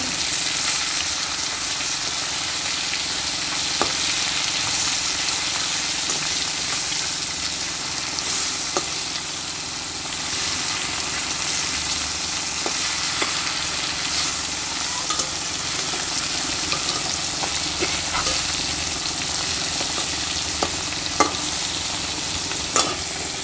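Fish fries on a stove, a loud continuous crackling sizzle with small pops that runs steadily throughout, with no talking.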